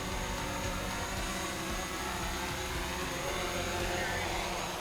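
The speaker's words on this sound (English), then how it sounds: "Let's see when I hit home where the drone actually lands." A DJI Mavic Pro drone comes in to land, its propellers giving a steady, loud, close whirring buzz that holds constant throughout.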